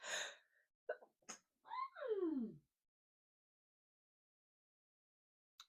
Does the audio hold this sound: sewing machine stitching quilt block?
no